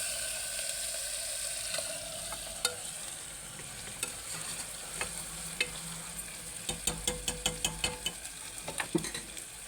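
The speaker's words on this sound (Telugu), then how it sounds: "ఇంత అల్లం వెల్లిగడ్డ, ఇలా కలర్కి వచ్చేస్తుంది." Ginger garlic paste fries in hot oil for a Telangana-style mutton curry, giving a steady sizzle broken by sharp clinks and scrapes of a spoon stirring the pan, growing busier toward the end; no one speaks.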